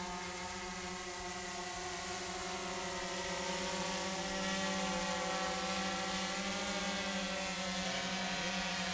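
XPX quadcopter drone with dual FPV, thermal camera and GoPro flying, its rotors giving a loud, steady, close whirring drone that holds constant throughout with no voices.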